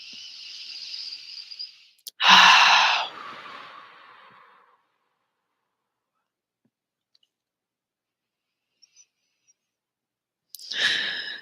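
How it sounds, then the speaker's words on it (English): Deep breathing in a calm guided meditation setting: a soft sustained inhale, then a louder, longer exhale, followed by a long silence and another breath starting at the end, close and alone without talk. "Take a nice deep inhale and exhale."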